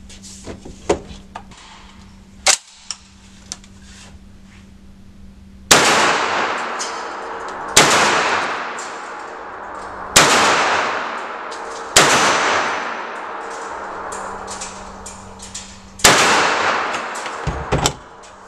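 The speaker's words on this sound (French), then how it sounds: "On va donc tirer 5 cartouches sur gong à 25 mètres" Derya MK12 12-gauge semi-automatic shotgun fires five loud, evenly spaced blasts at steel gongs 25 metres away, each followed by a ringing decay, with faint handling clicks beforehand.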